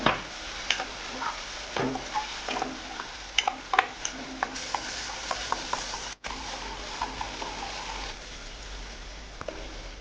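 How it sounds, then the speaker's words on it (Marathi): Tomato and peanut paste stirred into fried onions in a pan for a gravy of flat bean pods, with scraping spoon clicks and taps over a low, soft sizzle. "टमाटे आणि शेंगदाण्याची बनवलेली पेस्ट आहे हलवून घ्यायचं छान"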